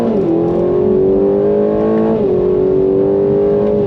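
A 2025 Aston Martin Vantage sports car engine revs and accelerates under load in second gear, its deep rumble climbing steadily in pitch with a brief dip before pulling again, loud and close.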